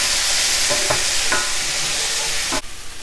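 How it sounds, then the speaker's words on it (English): Garlic, habanero and onion sizzle steadily in a pan, a loud bright hiss broken by a few scraping stirs before the sizzle suddenly cuts off. "after 3 minutes of the habanero and onion cooking down, I'm adding 2 teaspoons of garlic"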